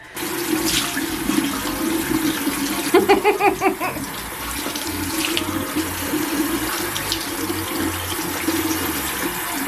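Tap water runs steadily into a sink while makeup cleanser is rinsed off a face, a close, full gushing stream with a brief burst of splashing partway through and no talking.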